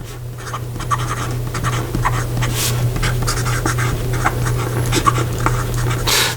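A Taccia fountain pen with a 14 karat gold music nib scratches across paper in short irregular strokes, close and clear over a low steady hum.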